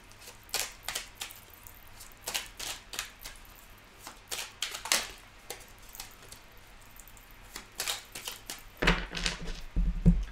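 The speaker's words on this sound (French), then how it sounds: "je remélange un petit peu la coupe" A deck of tarot cards shuffled by hand, a string of crisp, close riffles and taps in quick clusters, with a heavier shuffle near the end.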